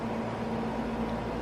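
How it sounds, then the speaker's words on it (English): A small portable air conditioner unit running indoors during extreme heat, giving a steady low hum with a droning tone, constant and fairly close, with no talk. "If you hear a loud humming in the background, it's the air conditioner."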